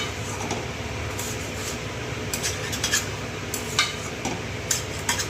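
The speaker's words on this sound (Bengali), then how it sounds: "এবার এই চালটাকে আমি একটু নাড়াচাড়া করবো" Rice being stirred in ghee in a pot while cooking chicken pulao: a steady sizzle runs beneath scattered scraping clicks of a spoon against the pan.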